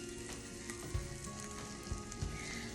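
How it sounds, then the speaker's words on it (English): Shrimp sizzling steadily in a pot for a Cajun shrimp and spinach dip, a close, even crackle with a few soft stirring knocks and no voices. "I'm gonna add my shrimp to this. And have it cook."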